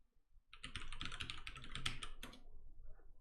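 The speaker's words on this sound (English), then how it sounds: "I just heard myself typing." Rapid typing on a computer keyboard at a streamer's desk, a steady clatter of keystrokes for about two seconds that stops abruptly, close and moderately quiet.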